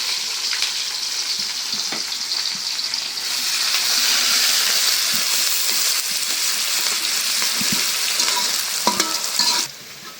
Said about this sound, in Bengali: পেঁয়াজ মরিচ ভেজে নিলাম, একটু পানি দিই।